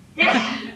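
A single sharp sneeze bursts out in a room during an evening photography presentation, loud and close, then trails off into breathy noise over under a second.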